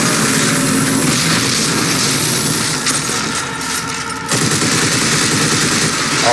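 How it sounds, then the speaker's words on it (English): Heavy gunfire and explosive blasts from a rocket launcher in the sci-fi shooter Dead Space 3, a dense, loud, continuous barrage with a brief dip before the roar resumes. "the rocket made short work of that"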